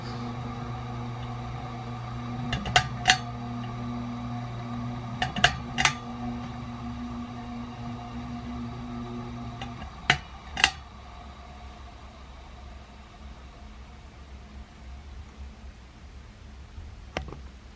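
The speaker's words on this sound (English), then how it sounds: "Now here's the motor running without blades." A King of Fans Hi-Line ceiling fan motor spins with no blades attached, giving a steady low hum and whir with a few faint metallic clicks and taps, close and alone without talk.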